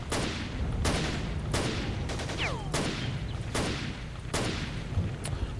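Gunfire in the video game S.T.A.L.K.E.R. Call of Pripyat rings out as sharp, loud shots spaced about a second apart, with a whizzing ricochet among them over a steady noisy background.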